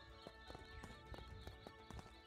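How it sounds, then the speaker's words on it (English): Horse hooves clip-clop steadily in the video game Craftopia, a regular galloping rhythm of muffled thuds heard over a constant tonal game music bed. "There's a horse."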